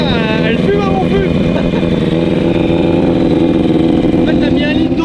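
A motorcycle with 170,000 km on it runs steadily after starting, a loud, close, even engine drone that holds for several seconds while voices talk over it.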